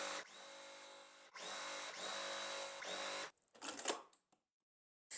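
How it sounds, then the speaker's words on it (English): Sewing machine stitching a pieced quilt block for a precut quilt kit, running in two long steady bursts with a brief pause between, then a few short uneven stitches and silence, close and fairly quiet. "I'm just going to sew."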